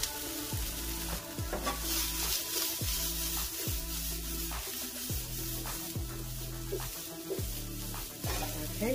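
Onions frying until browned in a pan, a steady loud sizzle broken by repeated rhythmic scraping strokes of a utensil stirring, close up with no talk.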